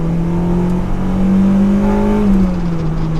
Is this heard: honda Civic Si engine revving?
yes